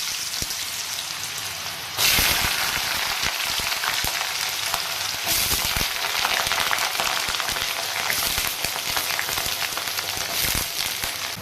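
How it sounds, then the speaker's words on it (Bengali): Chopped potatoes fry in hot oil with whole garam masala. A loud, continuous, crackling sizzle sounds like rain on a surface and jumps sharply louder after about two seconds, with occasional stirring scrapes and no talk. "আমার আলুটা ভাজা ভাজা হয়ে গেছে।"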